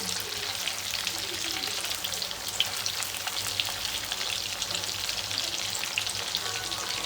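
Chicken fries in a pan on low heat with a steady, fine crackling sizzle like light rain, moderately close and continuous throughout with no voices.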